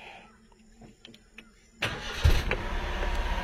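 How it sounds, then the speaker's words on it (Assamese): A Maruti Wagon R is switched on after a few quiet clicks, then its engine catches on the first crank and settles into a loud, steady idle up close. "গাড়ীখন ষ্টাৰ্ট কৰি দেখাম আপোনালোকক।"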